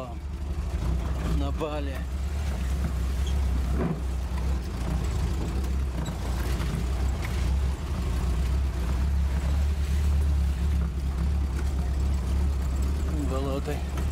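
A car engine rumbles steadily and low while the vehicle drives along a road past a marsh, with people talking over the constant hum.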